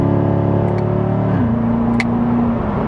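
Corvette with an 8-speed automatic downshifting via paddle in manual mode, steady loud engine drone that drops in pitch as the gear changes, with a faint tick near the middle.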